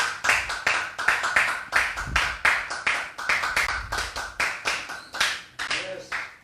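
A church congregation claps rhythmically in steady, close, loud bursts, with a few voices mixed in.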